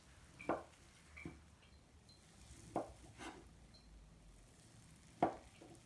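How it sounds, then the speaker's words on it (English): A knife slicing through a block of tofu on a cutting board, giving a few separate soft thuds spaced about a second apart, quiet and close, with no talking. "So now I'm just going to cut up the tofu. Slice it first."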